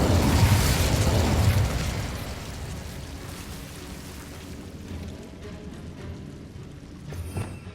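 Incendio fire spell cast in the video game Hogwarts Legacy, a loud burst of fiery roar that fades over about two seconds into a softer crackling rumble, with a small flare near the end.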